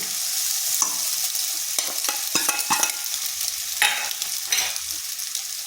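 A potato and grated egg filling is stirred in a pan with a spatula, giving steady scraping and sizzling with sharp clinks of the utensil against the metal, close up and with no voices.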